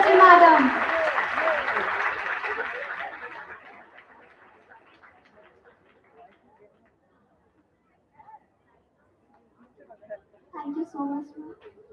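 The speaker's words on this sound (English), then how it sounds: "can we have a huge round of applause for our judge" An audience applauds for a judge at a college fest, the clapping loud at first then fading away over several seconds, followed by quiet and a few faint voices.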